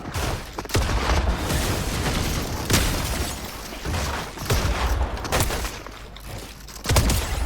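A pump shotgun fires in a video game: several sharp, loud blasts spaced a second or two apart over steady game noise and background clatter.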